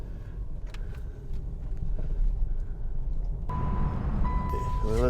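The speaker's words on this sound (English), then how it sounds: "Well, let's get rid of that dinging sound. Let me get this seatbelt buckled in." A Subaru Outback's seatbelt warning chime dings repeatedly inside the cabin during a test drive, first as faint short tones, then as a steadier, louder beeping over road and engine noise.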